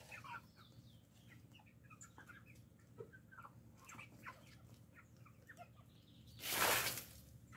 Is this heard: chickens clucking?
yes